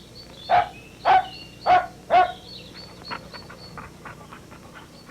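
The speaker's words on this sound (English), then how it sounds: "King Rollo was in the garden when King Frank arrived with his dog." A dog in a children's television story barks four times in a steady, evenly spaced run, loud and close, followed by softer yips and whimpers.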